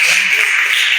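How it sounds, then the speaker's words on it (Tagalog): A worship congregation at a Sunday service in Cebu claps loudly together, a dense, steady wash of many hands that fills the whole moment without a break. "Palakpak na malakas sa Ginoo."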